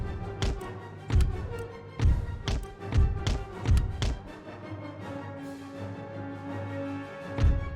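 Cannons firing at a fort's walls during a siege battle in the strategy game Empire: Total War, a series of dull booming thuds spaced roughly a second apart, then a gap and one more heavy thump near the end.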